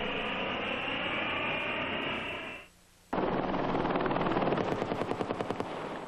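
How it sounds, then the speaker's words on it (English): An Apache AH-64A attack helicopter training in Germany, a loud whining rotor and engine roar that cuts out briefly, then returns with a rapid rhythmic blade chop growing more pulsed. "AH-64A attack helicopter, shown here training in Germany, is a world-class killing machine"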